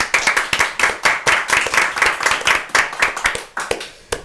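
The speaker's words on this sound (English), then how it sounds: "Round of applause." A round of applause for a podcast guest in a studio: a small group clapping steadily and briskly, close and loud, sustained for several seconds with no talk.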